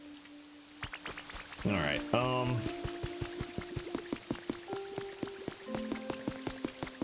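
Rain falls in the video game Pokémon Pokopia as a steady patter of drops on the ground alongside soft music and game tones, with a person talking over it.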